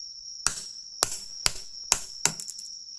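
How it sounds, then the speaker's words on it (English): Five sharp, bright hammer strikes land about half a second apart on a DIY gun PCB part, each hit cracking and shattering with a ringing metallic snap, close and fairly quiet with no talking. "just one hit of hammer, not too strong, and it will shatter away"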